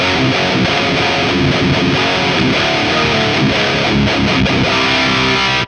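Heavily distorted electric guitar played through a Synergy amp, a dense, saturated high-gain tone with a steady full-band roar that continues for the whole passage and cuts off abruptly at the end, with no voices.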